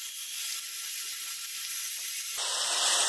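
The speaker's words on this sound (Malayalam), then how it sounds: "ഇപ്പൊ ഈ ചൂടായ നെയ്യിലേക്ക് നമുക്ക് ഈ ഉടച്ചു വെച്ചിരിക്കുന്ന പഴം ചേർത്ത് കൊടുക്കാം" Mashed ripe banana drops into hot ghee in a pan with a close, steady sizzle and hiss that swells sharply near the end as it hits the fat, with no one talking.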